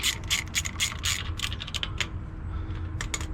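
A small 1/4-inch drive ratchet clicks in quick rapid bursts while loosening a 5/16 bolt on the main pin during a mini spool install on a C10, the pawl ticking close and crisp with short pauses.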